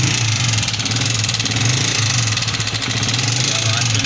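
A Honda CG 125 motorcycle engine idles close by, a loud, steady rumble with rapid, regular pulsing that continues unbroken throughout.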